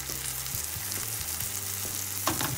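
Pork schnitzel frying in a pan on nearly high heat, a constant close crackling sizzle with small pops and spits scattered throughout, no voices.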